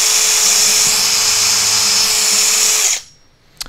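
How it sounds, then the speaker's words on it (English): A power drill whines loudly and steadily as it bores through thin wood for a carved love spoon, then cuts off abruptly, followed by a brief sharp click. "So try and keep the drill nice and upright"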